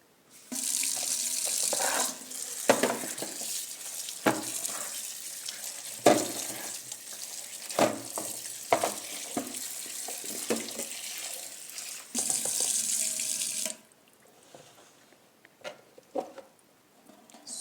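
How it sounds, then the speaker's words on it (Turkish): Tap water runs steadily into a kitchen sink while freshly peeled, earthy potatoes are washed, with a loud continuous rush, splashes and knocks of handling, ending in quieter dripping. "şimdi soyduğumuz patateslerimizi yıkıyoruz"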